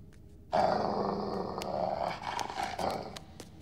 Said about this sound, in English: I've tried to get him to like me, but he just barks and growls.